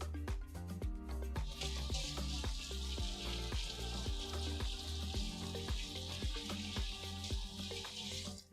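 Chicken pieces coated in cornstarch and flour fry in a pan of hot oil for a chicken and broccoli stir fry, giving a loud, dense, continuous sizzle and crackle close up.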